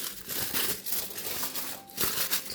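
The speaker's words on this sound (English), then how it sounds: "just going to lightly crumple and push it in." A small piece of armature material for a sculpted bust is lightly crumpled by hand, giving soft, continuous crinkling and rustling close up, with no talk.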